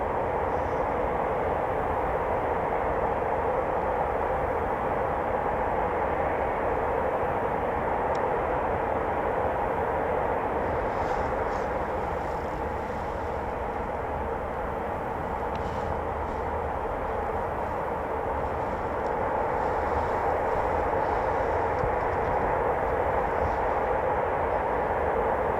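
Eurofighter Typhoon jet making a low approach at RAF Coningsby, a steady distant broadband jet roar that swells slightly and holds throughout.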